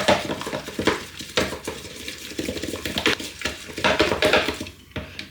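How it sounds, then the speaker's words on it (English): A spoon mixing icing sugar with pumpkin juice in a bowl: close, steady scraping and stirring broken by frequent clinks and taps against the bowl, with no talk. "and then you just want to get mixing."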